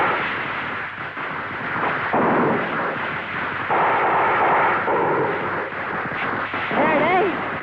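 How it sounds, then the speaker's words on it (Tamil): Firecrackers burst on a rooftop terrace, giving loud, dense crackling pops that run almost continuously, with a voice briefly audible. "வெடிக்கலடா, வெடி சத்தம்."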